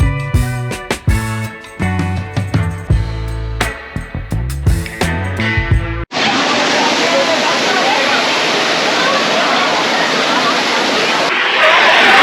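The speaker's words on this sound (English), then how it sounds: "behind us is the mini waterfall" After a stretch of music, a mini waterfall with people bathing in its pool takes over as a loud, steady, close rush of falling water that fills the remaining seconds without a break.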